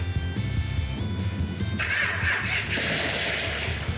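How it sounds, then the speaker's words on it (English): A Plymouth Cuda's starter cranks the engine with a rapid, rhythmic churning, then the engine catches and roars into a loud, sustained rumble at close range. "Let's start by just hitting the starter button and seeing what explodes"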